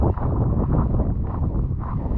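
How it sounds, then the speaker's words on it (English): Steady wind buffeting the microphone at Llyn y Fan Fach in the Brecon Beacons, a dense low rumble with gusty rustling throughout, close and fairly loud, no voices. "it's a bit windy"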